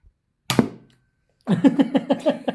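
A toy gun fires once in a shooting game, a sharp, loud, close pop that fades quickly, followed after a short silence by a rhythmic run of laughter.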